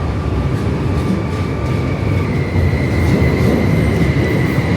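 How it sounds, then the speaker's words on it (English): A train pulls away from a station in Poland, its steady rumbling roll of wheels and cars filling the scene, close and loud, with a faint high tonal whine above the continuous rail noise. "Train is gone."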